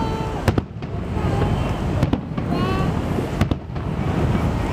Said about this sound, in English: Let's watch the fireworks.